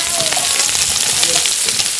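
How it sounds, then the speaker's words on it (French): Légine fish fries in hot oil for a rougail dish, a loud, constant crackling sizzle close by with no break. "c'est dans la friture"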